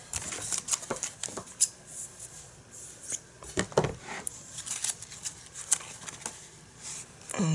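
Scissors cutting scrapbook paper with glue on the blades, a series of close crisp snips and paper rustles in an irregular rhythm.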